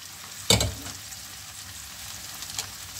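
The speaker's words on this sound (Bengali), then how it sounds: "এটা ভালো করে কষিয়ে নেব।" Garlic and sausage sautéing in a pan, a brief loud stir-and-sizzle burst up front, then a steady low frying hiss with a faint second clatter later.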